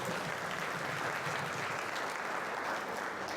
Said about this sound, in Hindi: तालियां मैडम के लिए बजा देते हैं